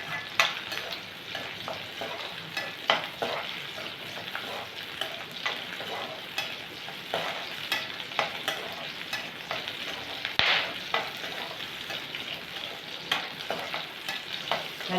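Ingredients for a coconut-free idli and dosa chutney sauté in a pan, with a steady close sizzle of frying and scraping stir strokes running throughout, no voices.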